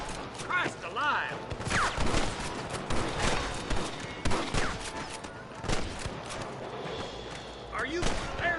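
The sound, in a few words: gunfire in Red Dead Redemption video game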